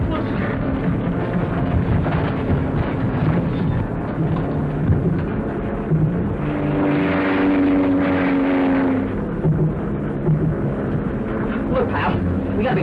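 A propeller plane drones loudly and continuously in flight, a rough rumbling engine with a swelling pitch midway, and voices are partly audible under the noise.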